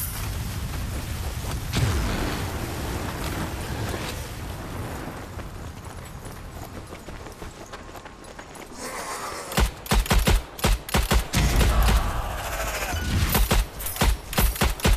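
Strange Brigade gameplay: gunfire breaks out after a rumbling, windy stretch, with loud rapid bursts and separate sharp shots close up in the second half.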